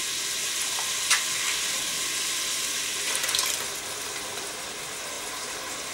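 Crushed tomatoes going into a hot soup pot, a steady close sizzle and hiss of frying with faint stirring and a couple of small knocks.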